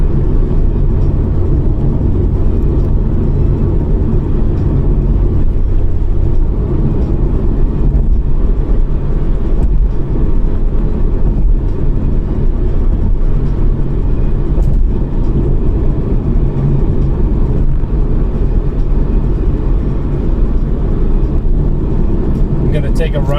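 Honda Integra Type R DC5 driving on a countryside side road at night in Japan, a steady low engine and road rumble from inside the car, continuous and fairly loud with a voice talking over it.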